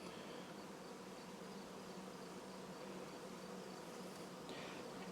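A honey bee swarm hums loudly and continuously around an opened hive filled with new comb and honey during a first inspection, a dense close buzz with no talk.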